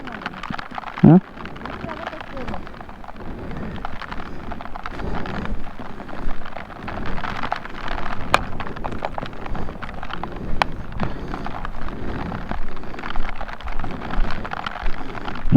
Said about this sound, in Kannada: ಜೋರು ಮಳೆ ಸ್ಟಾರ್ಟ್ ಆಯಿತು